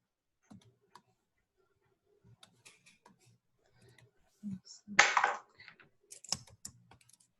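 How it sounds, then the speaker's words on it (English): Computer keyboard typing comes in short scattered bursts of key clicks, with one louder clattering run in the middle, set among quiet pauses and faint background voices. "let me go back and type that in."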